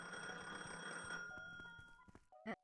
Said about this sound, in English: Okay, phone call.